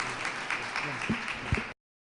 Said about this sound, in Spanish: Pido un aplauso fuerte para él